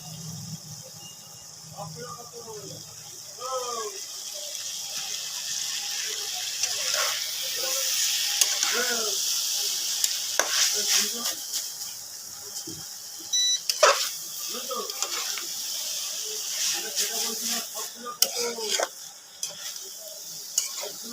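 Boiled vegetable chowmein is stir-fried in a pan with tomato sauce, shop style, giving a steady sizzle broken by stirring scrapes and clinks, all under ongoing talk.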